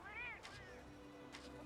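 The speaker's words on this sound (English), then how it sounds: "Ignore this cat." A cat meows once in Monster Hunter Rise: Sunbreak, a short rising-and-falling cry over a quiet, low game background hum.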